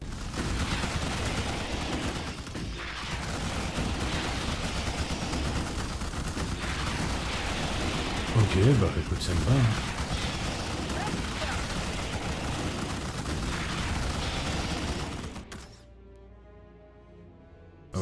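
Sustained gunfire and combat noise from the real-time strategy game Starship Troopers: Terran Command, heard during an airport assault: dense, continuous battle din with a couple of louder bursts midway, someone talking briefly, then a sudden drop to quiet near the end.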